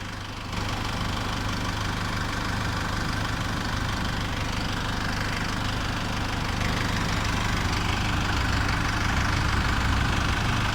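An Isuzu MU-X 3.0 engine idles with the hood open, a steady, even mechanical hum and clatter heard up close with no talking.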